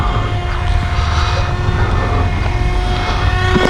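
TOBYRICH Moskito smartphone-controlled toy airplane's propeller motor at full throttle, a steady loud buzzing drone held close throughout, with no speech.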